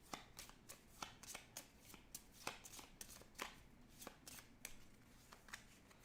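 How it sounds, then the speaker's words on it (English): A deck of playing cards being shuffled during a game of the Dominion board game: repeated quick riffles and snaps in irregular bursts, close and quiet, with no talking. "And then he will shuffle up because he needs to draw and he doesn't have any cards left."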